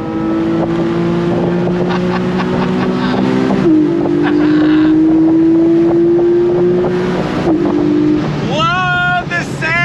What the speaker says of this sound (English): Love the sound of that engine.